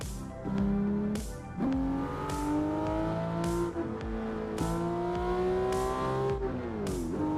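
Simulated race car engine from the PC racing game Assetto Corsa revs up through the gears, with the tone climbing in repeated surges and brief drops at each shift, loud and steady with no talking.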